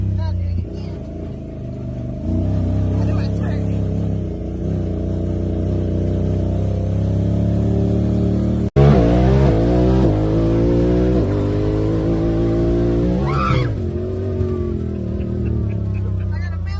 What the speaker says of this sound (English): Let's take a hot lap on the short course and try out that new road section.